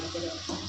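A short burst of running, splashing water, steady and close, like liquid being poured out in a continuous stream into flour while cooking at home.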